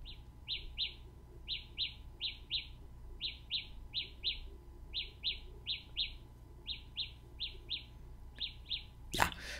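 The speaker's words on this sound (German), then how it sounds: "ein etwas lauter werdendes Vogelgeräusch oder ähnliches" A Samsung Galaxy Buds2 earbud finder signal: a repeating electronic chirp in quick pairs and triplets, bird-like, steady and rising in volume, playing alone over a faint hum before a short burst of noise at the end.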